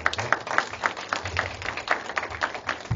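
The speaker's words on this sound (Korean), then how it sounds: "박수로 좀 맞아주시기 바랍니다." Audience at a documentary film festival conference clapping to welcome a guest onto the stage, a thin, sparse patter of individual claps at a fairly even rhythm, moderately close with no talk.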